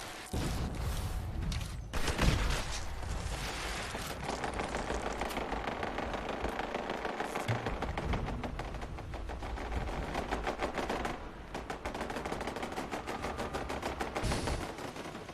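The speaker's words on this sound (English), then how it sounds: "These turrets are just shooting at the ground." Automated turrets in Fallout 76 fire steady bursts into the ground, a dense rattling volley running nearly unbroken at constant loudness, with engine-like hum beneath.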